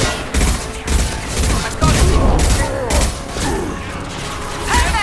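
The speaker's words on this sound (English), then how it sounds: "Nice concussive shot you got there. You wanna see mine?" The concussive shot ability from Mass Effect 2 goes off amid combat, a run of loud, punchy thumps and mechanical clatter repeating through the moment, close and forceful.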